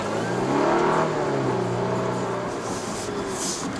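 A Volvo S60 sedan rated at 407 horsepower takes a tight, winding test course, its engine holding a steady, loud drone with rising and falling pitch as it corners, heard alone with no talk.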